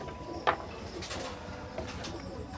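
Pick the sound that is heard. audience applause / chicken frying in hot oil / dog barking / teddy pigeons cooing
teddy pigeons cooing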